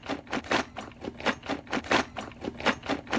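A broken accordion shaken by hand gives off a quick, continuous loose rattle of small parts inside, close and busy, with rapid uneven clicks and patters and no voice.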